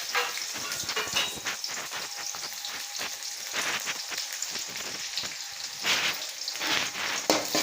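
Onions and fennel seeds sauté in a pan for a duck curry, a dense, close, continuous sizzle with crackling pops and occasional stirring scrapes throughout.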